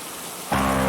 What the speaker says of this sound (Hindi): बाहर बारिश तेज हो रही है।